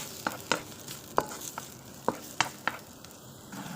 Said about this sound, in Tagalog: Bawang at saka maraming sibuyas. Maraming onion. So, halu-haluin natin hanggang mahilo.